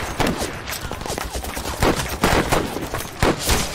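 Battle in a war film with dense, rapid machine gun fire and overlapping gunshots, loud and continuous throughout, with faint shouting mixed into the din.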